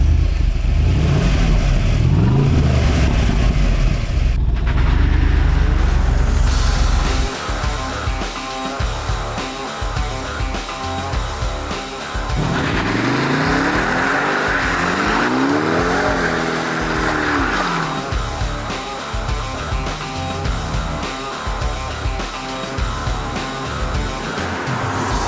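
A Holden Monaro is driven hard, its engine roaring loud and close as it revs, accelerates and shifts through gears, with rising and falling engine tones and tire squeal under steady road noise.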